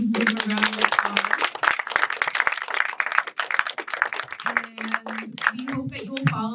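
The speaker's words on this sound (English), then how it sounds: "We can give them a round of applause." A small audience claps for a writers' panel, quick scattered hand claps mixed with a person talking over them, the clapping thinning out as the voice continues.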